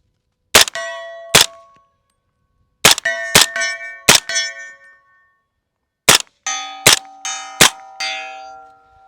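Rifle shots ringing off steel targets during a night vision shooting session: sharp metallic clangs with ringing tails in three groups, two, then three, then four, loud and close with no talk.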